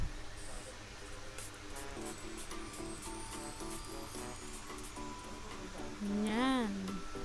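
A G21 Sakura facial mist is sprayed onto the face, giving a soft, steady hiss under background music with a brief tonal sweep near the end.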